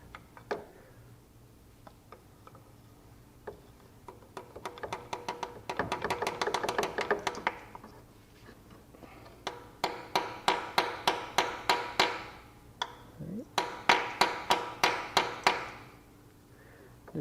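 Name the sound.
tapping a dowel into place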